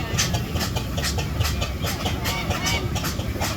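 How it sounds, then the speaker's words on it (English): An Aveling and Porter Showman's steam engine, formerly a steamroller, rolls into the arena at a steam rally: a steady near mechanical rumble with rhythmic hissing chuffs, continuous and fairly loud. "Now we've got an Aveling and Porter Showman's engine coming in."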